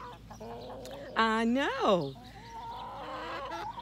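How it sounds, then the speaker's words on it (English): White-feathered chickens with black skin cluck close by, with a rising, squawking call in the middle. A person speaks briefly and quietly. "that's some of my chickens"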